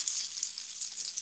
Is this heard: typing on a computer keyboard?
no